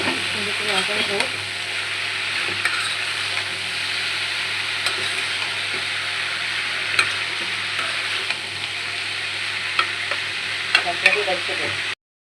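Bitter gourd (karela) slices fry in hot oil in a pan, a steady close sizzle with occasional scrapes and knocks as the pieces are stirred, continuing without pause throughout.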